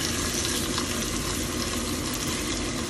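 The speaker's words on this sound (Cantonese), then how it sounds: "利用個鑊煎埋豬扒" Pork chops slowly pan-frying in a wok over low heat give off a steady, close, dense sizzle that holds evenly for a few seconds with no talking.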